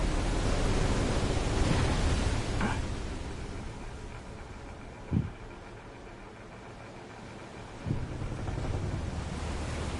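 A loud surge of rushing, crashing water like breaking waves is heard as water is split in half. It is strongest at the start, then eases into a steady wash broken by a few dull thumps.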